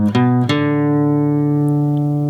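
An electric guitar picks two low open-string notes before ringing out a sustained tone from the opening of a riff, clean and close with nothing else heard.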